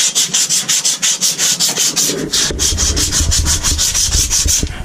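Abrasive paper rubbing back and forth over copper pipe to clean it before soldering, in quick rhythmic strokes, close and clear with no talking.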